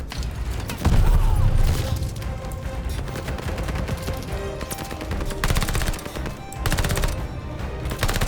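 A PPSh submachine gun fires in the Call of Duty Vanguard campaign: fast loud bursts with booming impacts and mechanical clatter, dense and close throughout.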